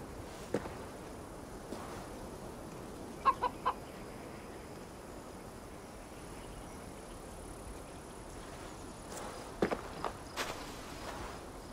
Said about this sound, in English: I see only a chicken.